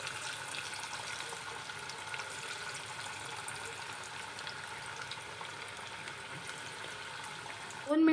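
Kothimbir vadi pieces fry in hot oil with a steady, close crackling sizzle that holds evenly throughout, ending in a short louder burst.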